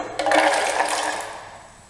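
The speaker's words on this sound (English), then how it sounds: "We're going to be pouring some water in, and we need to pour in about 4 cups of water." About four cups of water are poured onto almonds in a container, making a loud gushing splash that starts abruptly and gradually tapers off.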